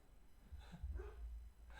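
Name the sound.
basset hound dog barking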